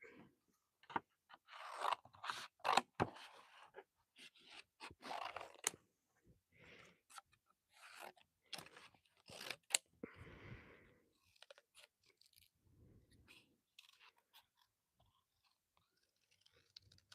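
Scissors cut out a paper prop up close, giving bursts of crisp, irregular snips and crunchy scrapes with short pauses between cuts, quiet and without talk.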